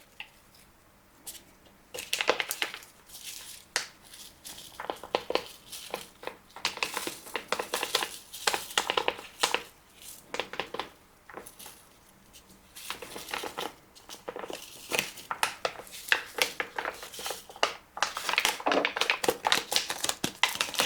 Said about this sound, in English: Okay, so I'm going to sprinkle this over top.